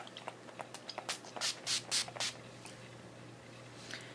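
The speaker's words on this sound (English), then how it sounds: "I am going to take the Mary Kay Makeup Setting Spray. I'm going to do a few squirts of that." Several short hissing squirts of Mary Kay makeup setting spray burst close by in quick succession, faint and quiet between the bursts, with no talking.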